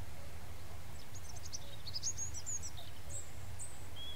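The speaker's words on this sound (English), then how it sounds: "Yeah, birds are still singing even though it's dark." Birds sing at night in the survival game Mist Survival: scattered high chirps and short trills come and go over a low steady rumble of ambient noise, with a faint insect-like buzz underneath.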